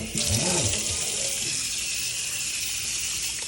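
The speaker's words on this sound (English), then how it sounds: "It's been 3 hours and it's time to rinse." Sliced pickling cucumbers for bread and butter pickles rinsed under a running tap: a steady, loud rush of water into a bowl, briefly joined by a few faint low knocks at the start, with no talk.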